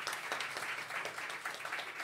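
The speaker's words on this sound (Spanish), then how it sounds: "Un aplauso para todos." An audience at an IPPA Conero semifinal round in Argentina applauds the competition participants, with fairly soft, steady clapping that pulses slightly throughout.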